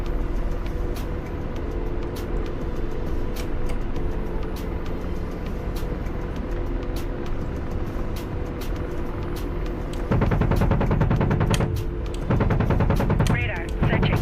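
Machine gun fire from a combat aircraft in a flight combat video game, strafing a damaged flak gun, comes in two loud bursts near the end over a steady engine drone, with a voice talking earlier.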